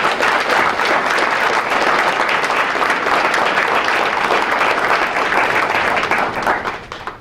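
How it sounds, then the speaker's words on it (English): Sustained applause from a large crowd, loud and steady throughout, fading slightly at the very end. "we want us all to give all of you a round of applause"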